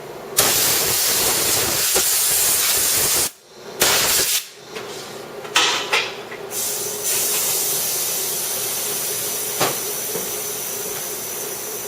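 Compressed air blasting off a dirty, liquid-damaged MacBook Pro unibody logic board, a loud steady hiss broken by several short gaps and bursts, close up with no talking.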